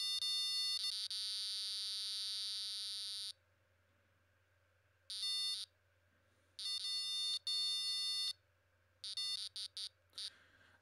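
Loud electronic beeping from an Arduino ultrasonic distance sensor held close, a long sustained tone followed by bursts of rapid, irregular beeps as obstacles move nearer and farther, over a steady low hum.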